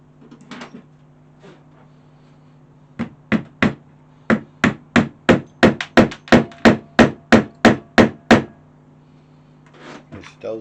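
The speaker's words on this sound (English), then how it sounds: "There's dowels and holes, tap tap tap." Wooden dowels are hammered into countersunk holes in a wooden dog bowl stand with a rapid run of about eighteen sharp, evenly spaced knocks, close and loud. A few quieter knocks come before and after, and a steady low hum sits underneath.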